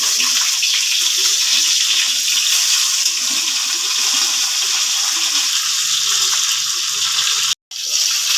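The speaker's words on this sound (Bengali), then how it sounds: "এবার ভেজে নেব। কড়া গরম হয়ে গেছে, সরিষার তেল দিয়ে দেবো।" Bhola fish rubbed with salt and turmeric fries in hot mustard oil in a wok, a steady, close, hissing sizzle that cuts out briefly near the end.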